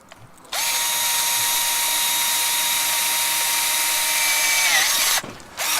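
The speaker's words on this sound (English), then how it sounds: "I mean, I'm starting to drill through pretty well." A power drill screams at a steady high pitch while boring through the head of an Olight Warrior X Pro flashlight, starting abruptly, holding loud and close for nearly five seconds, then winding down and stopping.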